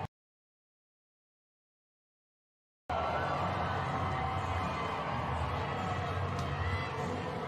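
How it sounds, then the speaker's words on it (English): Women's Super Rugby Aupiki crowd at a home stadium, Hurricanes Poua against Matatu, roaring loudly and steadily after a long silent stretch, a dense wash of cheering and shouting that never lets up. "The crowd are absolutely losing it out there here at the Cape Tin"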